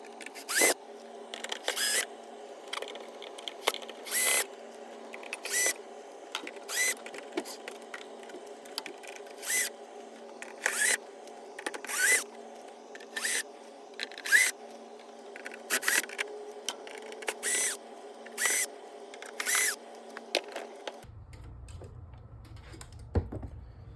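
Screws are removed one after another from the bottom panel of a Yamaha AW4416 mixer, making faint, evenly spaced clicks and ticks from a screwdriver against a quiet background, with no talking.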